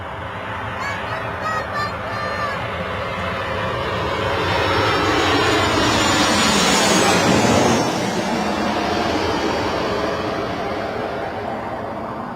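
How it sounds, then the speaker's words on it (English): A Ryanair airliner landing at Bristol Airport, its jet roar building from a distance to a loud, close peak midway, then easing off while wind and faint voices linger in the background. "Ryanair landing."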